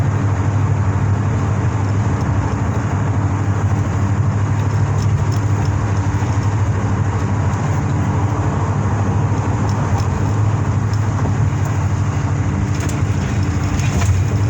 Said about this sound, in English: I'm actually driving right now